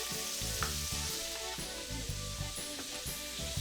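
Red snapper sizzles steadily in a hot pan, a close, even crackling hiss with a faint rhythmic thumping underneath and no talking.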